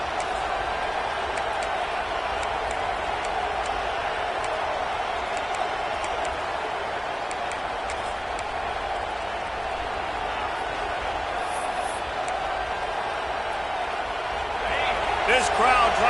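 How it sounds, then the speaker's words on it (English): A basketball arena crowd at an LSU versus South Carolina game keeps up a broad steady roar, with a few sharp knocks and a slight swell near the end. "This crowd trying to make life miserable for this offense."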